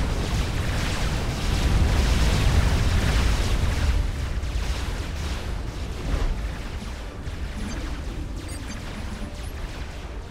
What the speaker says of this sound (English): That's artillery. I already know that's artillery.